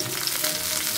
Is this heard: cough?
no